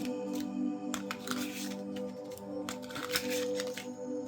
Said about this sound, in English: Shuffle them a little bit.